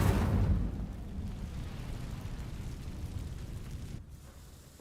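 Incendio fire spell cast in Hogwarts Legacy, a loud whooshing burst that dies into a low, steady rumbling crackle, then cuts out near the end.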